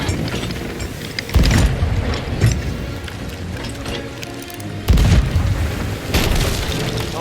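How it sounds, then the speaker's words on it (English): Ship cannons firing in the pirate video game Sea of Thieves, with two heavy booms a few seconds apart, each followed by a rumbling tail, over ongoing game noise and no speech. "Cannon."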